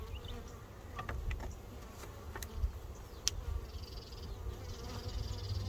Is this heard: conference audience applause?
no